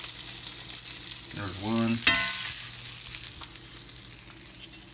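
Burger patties hit a hot grill with a loud sudden sizzle that swells and then settles into steady frying, with a brief spoken remark and some handling clatter around it.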